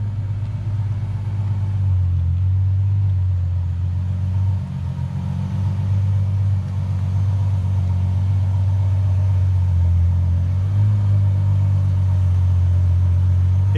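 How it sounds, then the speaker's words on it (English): An old Lusso car engine idles steadily at close range while reversing into a workshop, a continuous low rumble with slight rises in revs and no talk. "So Bobby's just fired up the old Lusso."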